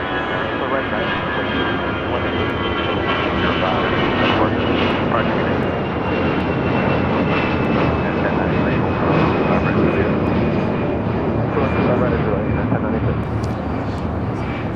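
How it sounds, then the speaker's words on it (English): American Airlines Boeing 777-200ER jet airliner taking off from runway 25 right at LAX on the south side, a loud steady engine roar that holds for the whole stretch, with a high turbine whine riding above it. "Next takeoff here on the south side."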